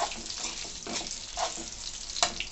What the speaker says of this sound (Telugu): ఇలా వేయించుకొని కొద్దిసేపు ఇలా వేయించి